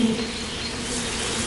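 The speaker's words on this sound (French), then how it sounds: "Ils rendent visite aux abeilles bashkirs." A steady, dense buzzing of many Bashkir bees at forest hives in the Ural Mountains, continuous and even in loudness, with no voices.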